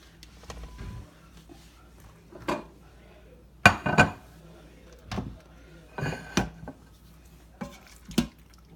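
Taco pasta made in an Instant Pot is served up with utensils: metal spoons and tongs clink and scrape against the pot and plates in scattered clatters. Some are loud and close, others soft, with faint talk in the background.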